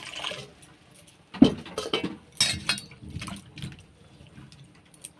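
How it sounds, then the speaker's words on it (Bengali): Water pours into a wok on a stove in short splashing bursts with brief pauses between them, fairly close and moderately loud, with no talking. "প্রথমে কড়াইয়ে জল দিয়ে দেব।"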